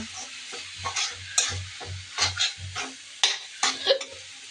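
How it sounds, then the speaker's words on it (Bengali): A vegetable bhaji with ginger-cumin paste and coriander leaves being stirred in a pan, with rhythmic spatula scrapes and knocks repeating over a continuous close sizzle. "ধনিয়া পাতা দিয়ে নেড়ে চেড়ে তারপর আমি নামিয়ে নিব।"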